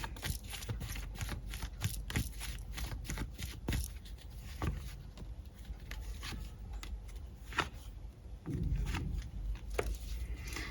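Tarot cards are shuffled and drawn by hand, a long run of crisp riffling slaps and flicks in uneven bursts, close and fairly quiet, with no talking.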